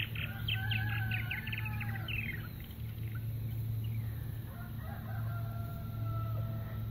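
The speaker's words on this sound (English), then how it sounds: "You'll have to excuse the rooster noise in the background." A rooster crows repeatedly in the background of a rural yard, its calls mixed with chirping birds such as purple martins over a steady low hum.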